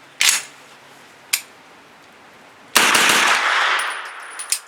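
A 9mm carbine firing 115 grain Hornady ammunition outdoors: two sharp, separated shots, then a louder burst with a long ringing tail, and a final crack near the end, all close and without talk.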